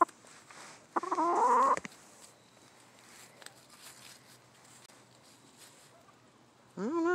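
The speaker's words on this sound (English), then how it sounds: "You're a good chicken." A backyard hen gives a short burst of loud clucking early on, then goes quiet apart from faint rustling. Another clucking call comes near the end, with no talking over it.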